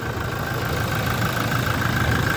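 A Toyota Innova Crysta 2.8 automatic diesel engine idling, a steady close rumble with an even low throb and no talk over it.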